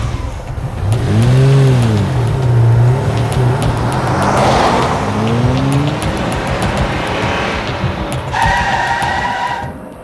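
A car engine revs hard and pulls away, loud and close, with rising and falling engine tones and a brief squeal near the end.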